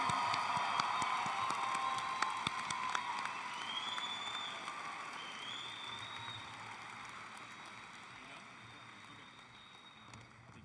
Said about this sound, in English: please join me in another round of applause, or let's continue this one for the class of 2023